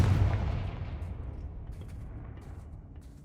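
A Confringo fire spell in Hogwarts Legacy bursts with a loud booming blast at the start, then decays into a fading rumbling tail.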